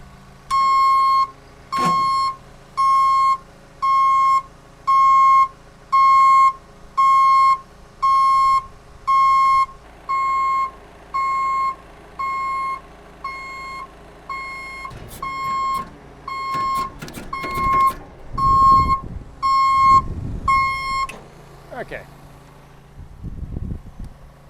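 Outriggers on an aerial work machine deploy to a loud, steady series of regularly spaced electronic warning beeps, followed by hydraulic clunks and mechanical movement as the legs extend.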